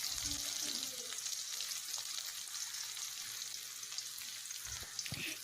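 Chopped onion and beans for egg chowmein fry in a pan with a steady, faint hiss of hot oil, broken near the end by a couple of soft clinks from stirring.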